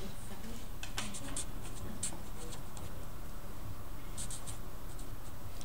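Pen or marker scratching across a surface in a classroom, quick intermittent strokes in short bursts over a steady room hiss, near and fairly quiet.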